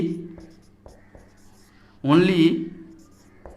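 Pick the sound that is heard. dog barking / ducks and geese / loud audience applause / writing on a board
writing on a board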